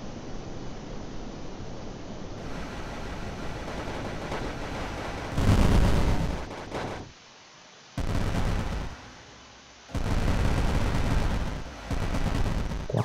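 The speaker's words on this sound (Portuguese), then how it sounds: "Nossa, olha quanto tiro que lindo." Gunfire in a self-made Unreal Engine video game: dense continuous bursts of shots and blasts, swelling louder in several surges separated by brief quieter gaps, with no talk.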